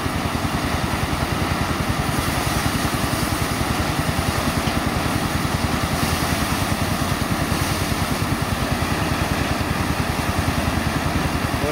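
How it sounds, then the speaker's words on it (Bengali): A rice roller machine runs in a village, its engine droning with a fast, even pulsing rhythm, loud and continuous throughout with no speech. "আর এটা হলো রোলার মেশিন"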